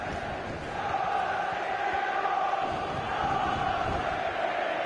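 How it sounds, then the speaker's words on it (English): A stadium crowd roars and cheers in the FIFA 15 football video game, a broad steady wall of noise that swells after the first second and holds loud and sustained throughout. "the crowd has gone mad here because they know, I think we all know, that's probably the winner"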